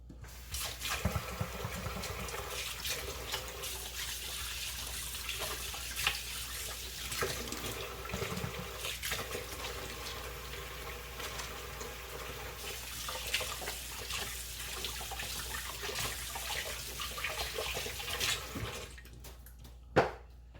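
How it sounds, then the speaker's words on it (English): Kitchen tap water running steadily into a sink while hands are washed, a continuous rushing splash with small shifts in flow that stops abruptly near the end. "let me go ahead and get my hands washed and then we'll be right back"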